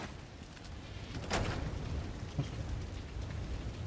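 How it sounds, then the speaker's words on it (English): Steady rain patter in the video game Resident Evil 2 Remake, with a broad hiss, a few brighter splashes standing out, continuous throughout. "Raining."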